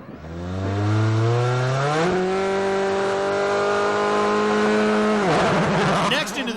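A 2003 Peugeot World Rally Car at full throttle on a gravel stage at Rally Argentina, engine howling steadily through rising gear changes, then a sharp lift-off and rough crackle as it passes close and loud.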